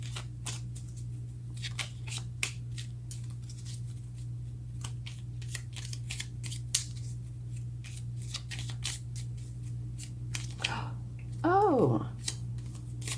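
Tarot cards are shuffled by hand in a run of crisp riffling flicks and soft slaps close by, over a low steady hum, with a brief squeaky rise near the end.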